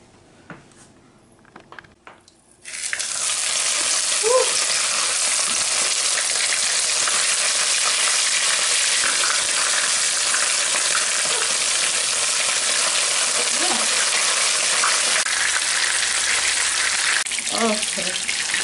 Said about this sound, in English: I'm gonna fry my fish now.